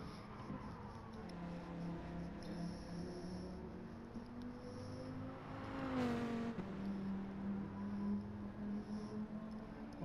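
Race car making a handbrake turn at the finish line of a seaside race, with a steady engine drone that swells into a brief loud tyre-and-engine surge midway before settling back under continuous motor noise.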